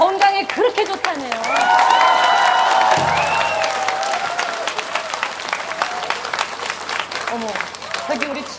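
Live audience at a pansori performance, clapping and cheering together in a steady mass that swells and carries on under a singer's voice and loud talk throughout.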